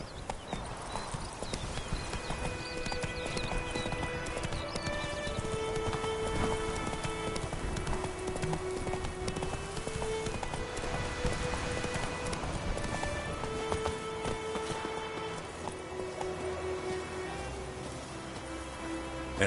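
Roach the horse gallops in The Witcher 3 video game, a steady rapid clip-clop of hooves carrying on throughout, with a tonal musical score and ambient game sounds layered underneath.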